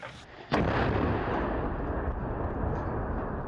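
A single loud artillery blast bursts out after a moment of quiet, followed by a long rumbling roll that slowly fades.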